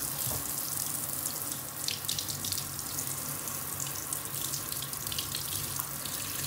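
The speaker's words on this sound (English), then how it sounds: "Putting on the shower head so I can get this." A shower head runs lukewarm water to rinse out a trumpet, a steady close hiss and splash of flowing water that continues without pause and without speech.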